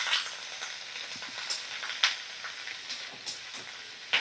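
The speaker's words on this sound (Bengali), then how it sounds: "বেশ 3 থেকে 4 চামচ সর্ষের তেল নিয়েছিলাম আর কালো জিরে আমি ফোড়ন দিয়ে দিয়েছিলাম।" Winter vegetables frying in a pan of mustard oil tempered with black cumin seeds, a steady soft sizzle with scattered sharp pops and spatters, close and moderately quiet, with no voices.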